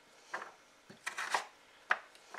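A knife and meat mallet work through a hard butternut squash, giving a few sharp knocks and scraping chops spaced irregularly, close by in a quiet kitchen.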